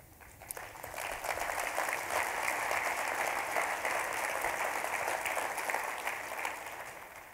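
An audience at a child protection summit general session claps steadily for several seconds, the applause swelling quickly, holding, and then tapering off at the end.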